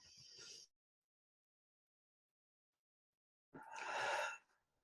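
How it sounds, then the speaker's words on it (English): Two deep breaths with a long silence between: a short, soft breath at the start, then a longer, fuller inhale-exhale near the end, close and alone. "Let's take 3 more big deep breaths together."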